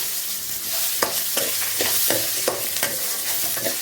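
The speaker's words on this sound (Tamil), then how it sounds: "ஒரே ஒரு பெரிய வெங்காயம் கொஞ்சமாக புளி ஒரு அஞ்சு பூண்டு அவ்வளோதான் இதையும் சேர்த்து நல்லா வதக்கிக்கலாம்" Onion, tamarind and garlic sauté in a pan for a thuthuvalai chutney, a steady close sizzle of frying broken by several sharp scrapes and taps of a stirring spoon roughly every half second.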